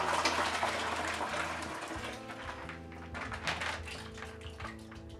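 Spring water poured into a plastic wine fermentation bucket holding grape concentrate and bentonite, a steady rushing, splashing pour that fills the whole stretch and eases slightly toward the end.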